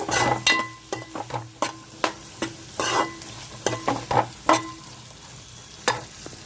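Onions and green chillies frying in peanut oil for a Godavari-style pulasa fish curry, stirred with a utensil that knocks and scrapes the pan in irregular sharp clinks over a soft, continuous sizzle.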